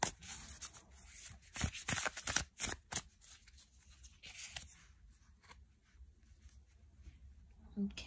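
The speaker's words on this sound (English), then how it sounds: "Let's pick out some cards from this deck as well." Tarot cards being shuffled and drawn from a deck, with a burst of close riffling and rubbing early on that fades into softer handling, while a person talks.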